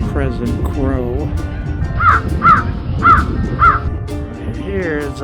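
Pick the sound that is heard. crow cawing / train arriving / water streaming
crow cawing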